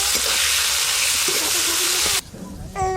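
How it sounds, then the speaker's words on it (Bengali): Bitter gourd pieces fry in hot oil, giving a loud, steady sizzle that suddenly drops away near the end, leaving a quieter hiss and a brief tonal sound. "তেল গরম হয়ে গেছে, করলাগুলো প্রথমে ভেজে নেব।"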